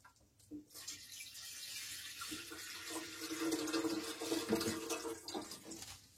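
Water draining through the open tap of a water heater set on a stove in a winter forest caravan camp, a faint continuous running gush that swells slightly louder toward the end.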